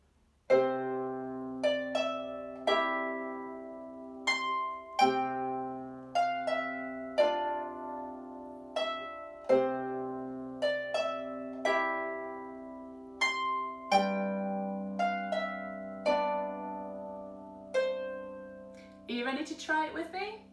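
Piano played with both hands together, left-hand octaves under right-hand chords and melody notes in a steady, lilting rhythm, clear and close, a tune from a festival workshop on Rory Dall's Port, ending in a short flurry of higher notes.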